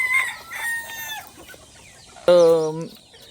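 Free-range village desi chickens on a poultry farm, hens clucking in short bursts followed by a loud, close rooster crow near the end.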